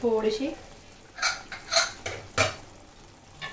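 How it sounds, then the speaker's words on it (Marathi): A metal lid comes off a pan of simmering mushroom and pea masala, giving three or four sharp, close clinks spaced about half a second apart. A brief voice is heard just before them. "तर आपण झाकण काढून घेऊया."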